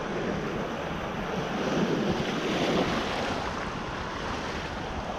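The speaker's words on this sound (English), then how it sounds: "Big waves." Big ocean waves roar in a steady dense wash with strong wind buffeting the microphone, continuous and loud with no voices.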